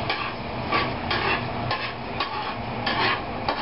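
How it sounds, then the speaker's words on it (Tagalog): Garlic is sautéed in a pan for ampalaya with bagoong, a gentle steady sizzle punctuated by rhythmic scraping strokes of a spatula, close up with no talking. "So ngayon, nadagdag natin yung bawang. Pero daan-daan tayo dito. Okay na. Yan. So, igisa natin."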